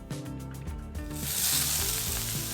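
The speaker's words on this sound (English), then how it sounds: "In a large pan on medium heat, add a tablespoon of olive oil and the eggplant." Eggplant hits olive oil in a large pan over medium heat, and a bright sizzle swells up partway through, then crackles steadily and close, over faint background music.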